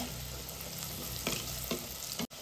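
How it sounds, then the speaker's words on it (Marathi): Onion frying in hot oil until crisp for an Alibag-style field bean amti, giving a steady close sizzle with brief surges as it is stirred and a short drop near the end. "तर कांदा कुरकुरीत होईपर्यंत जरा परतून घेणार आहे"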